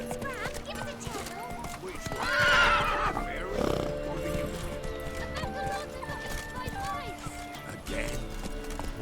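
The horse Roach gallops in The Witcher 3 with steady hoofbeats and a loud neigh partway through, while people talk over the movement.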